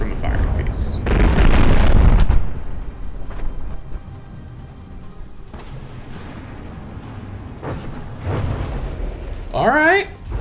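A cannon volley and explosions in a ship battle video game roll out as heavy, loud booms and rumbling bursts, with a louder blast near the start, under steady talk and a sweeping whistle-like sound at the end.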